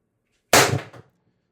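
A single Pistelle X-68 blaster shot, from an air plenum birdcage mod, goes off as one sharp, loud pop with a quick rattling tail, close up and alone in otherwise silent surroundings.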